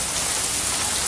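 Heavy rain lashing down in a thunderstorm during a tornado, a loud, unbroken close-up roar of drops on surfaces with no voices.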